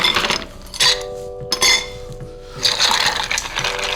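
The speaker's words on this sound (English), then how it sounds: "We're gonna get some ice, throw the ice in." Ice cubes clatter into a mixing glass for a Vesper martini in a few sharp, bright bursts of clinking, with short quiet gaps and a faint ringing tone between drops.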